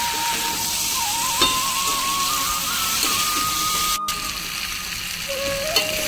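Steady sizzling and hissing of yam and potato pieces sautéing in oil in a pan, with faint scraping from stirring and a brief clink; continuous and fairly loud, no voices.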